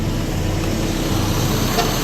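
Transport Ekspres coach bus with Cipta Karya Medan bodywork idling at Bukit Surungan terminal, a steady low engine rumble under constant roadway noise, close and unbroken throughout.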